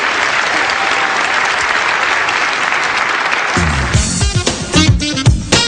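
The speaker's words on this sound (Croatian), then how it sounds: "Crveni nosovi, dame i gospodo, veliki aplauz za njih" A large audience at a Croatian awards ceremony applauds the Red Noses clown doctors, a dense, steady wash of clapping that fills the room and then thins into scattered individual claps near the end.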